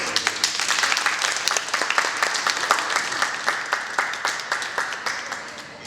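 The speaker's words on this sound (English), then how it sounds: "Let's give them a round of applause." Audience applause at an aquarium feeding-time show, a dense sustained patter of many hands clapping throughout, fairly loud and steady before tapering slightly at the end.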